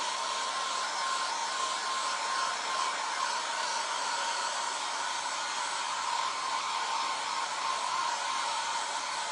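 A hair dryer blows steadily and loudly on a chalk craft project, one continuous even whir with a faint tonal hum and no pauses.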